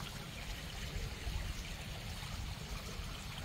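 Steady rushing and splashing of water from a small waterfall at a temple, falling nearby, continuous and fairly loud with no voices.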